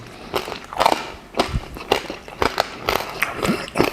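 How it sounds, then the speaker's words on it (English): Crunchy bites into the crispy crackling skin of a Franconian-style roast pork shoulder (Schäufele), heard as a series of close, sharp crackly crunches spaced about half a second apart, with no talking. "You feel the crunch?"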